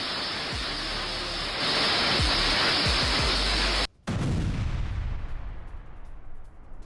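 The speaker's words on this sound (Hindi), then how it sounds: "रूसी सेना ने कुछ ही सेकंड्स में दागे दर्जनों रॉकेट" Rapid salvo of Russian Grad multiple rocket launcher fire against a Ukrainian depot, a dense continuous roaring rush with repeated low thumps, cut by a brief gap, then a sustained loud rumbling roar that slowly fades.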